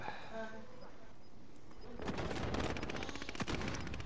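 Rapid automatic gunfire in the video game Warzone on Rebirth Island, a fast rattling burst of shots that starts about halfway in and stays loud to the end, with voices talking before it.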